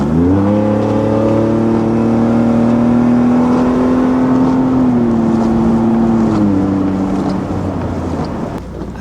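A Ford EcoBoost Raptor with an upgraded exhaust drives past or along, its engine droning loudly and evenly, rising slightly in pitch and then easing back as it cruises, with wind rushing across the microphone.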